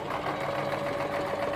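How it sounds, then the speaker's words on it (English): A sewing machine runs steadily as a nine-year-old stitches the waistband onto a circle skirt, a close, continuous whirring hum with a rhythmic mechanical pulse and no talk. "Bellucci is sewing on the waistband now."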